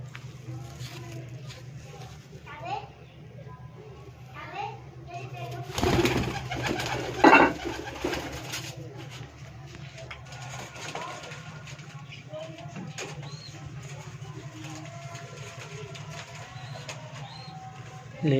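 Domestic pigeons coo softly near their chicks while someone talks over them, with scattered bird calls, some rustling and a brief burst of flapping or handling noise.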